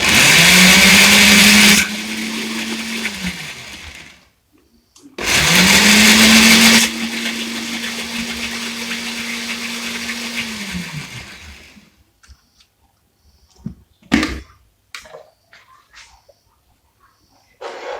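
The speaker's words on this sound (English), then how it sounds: "So I'm gonna be blending this mixture." A blender whirs loudly in two bursts, its motor pitch steady then winding down, followed by quiet clinks and handling noises.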